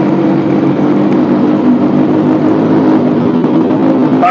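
Steady idle of a 2015 Honda CB 650 F four-cylinder motorcycle, a loud, even low rumble held close by with no change in pitch.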